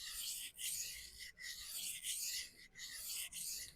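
A steel knife blade ground across a whetstone to remove metal after a burr has formed, in repeated raspy strokes about a second each with brief pauses between, close and crisp.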